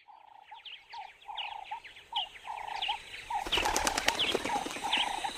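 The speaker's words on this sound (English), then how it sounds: "Birds cry loudly and fly away into the sky." Forest birds call repeatedly, then a burst of wing flapping rises as they take off and fly away, the flutter loud and close over continuing cries.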